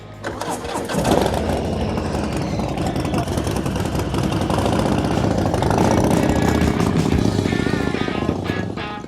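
A motorcycle engine runs loud and steady for about nine seconds, with a sustained rumbling roar and no voices over it.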